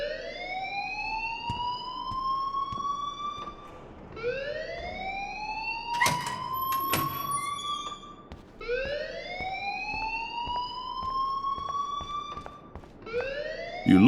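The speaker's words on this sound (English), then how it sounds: "please turn off that alarm since that's your job" A wailing alarm in the Life Is Strange video game, rising in long repeated sweeps about every four seconds, loud and steady, with a few sharp clanks mixed in.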